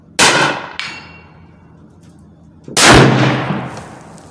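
A .308 Savage Axis rifle fires: a sharp, loud blast with a ringing tail, a smaller crack soon after, then another powerful report that echoes and fades slowly at the range.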